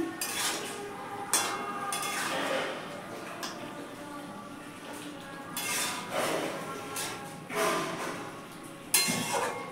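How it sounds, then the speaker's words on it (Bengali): Cauliflower, potato and paneer curry with garam masala and a spoonful of ghee being stirred in a pan, with a spoon clinking and scraping against the metal in bursts over a steady background. "ভালো করে এগুলোকে মিশিয়ে নিচ্ছি।"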